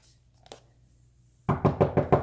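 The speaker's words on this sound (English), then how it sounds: "sometimes I like to mix it up and do a little bit of knocking" Knuckles rap on a door, first a faint single tap, then a loud close run of about five evenly spaced knocks that ends the clip, with no voices.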